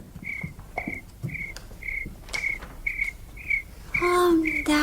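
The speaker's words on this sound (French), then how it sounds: "Bien oui, le grillon. Vous ne l'avez jamais entendu?" A cricket chirps by a household hearth, giving repeated short, high trills at an even pace, moderately near against a quiet room, with a brief burst of other sound at the end.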